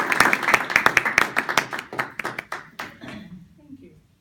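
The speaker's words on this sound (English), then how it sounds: "That applause died out a little quick." A conference audience welcoming a speaker gives applause that is sparse and distinct, made of individual claps. The clapping fades out after about three seconds, leaving near silence.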